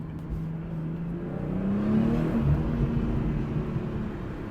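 A 2023 BMW M240i, a repaired wreck of about 382 horsepower, accelerates hard and shifts up, its engine note climbing steadily and continuously up close with no talking.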